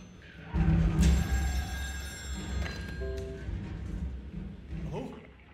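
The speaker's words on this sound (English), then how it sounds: "A bloody phone ringing again" A telephone rings in the video game Still Wakes the Deep, a brief, bright ringing tone sounding under louder game noise and voices talking.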